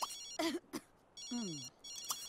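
A telephone rings in The Sims 3 life-simulation game, repeated electronic ring bursts coming in quick succession with brief gaps between them, loud and alone without any talk.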